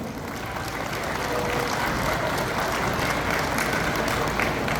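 An audience applauds at a Children's Day event, a dense wash of many hands clapping that swells slightly and holds steady throughout.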